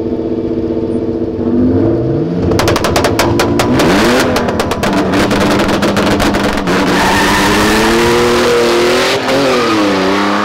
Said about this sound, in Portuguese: dois tração traseira, BMzinha, contra Opalão, turbo